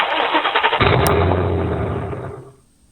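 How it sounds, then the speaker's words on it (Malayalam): A Ford Mustang engine start sound played by a headset: the engine cranks and roars to life, then settles into a deep rumbling idle that fades away at the end. "ഹെഡ്സെറ്റ് ഓൺ ആക്കുന്ന സമയത്ത് മസ്താങ്ങിൻ്റെ എഞ്ചിൻ സ്റ്റാർട്ട് ചെയ്യുന്ന പോലെയും"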